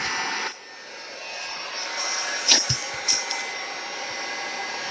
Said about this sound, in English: we got our heat gun right here, and I'm about to shrink this bad boy up